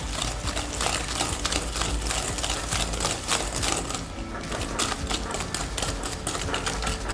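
An electric mixer beating an egg into apple cake batter: a steady, close, continuous whirring with a fast rattling clatter throughout, heard alone.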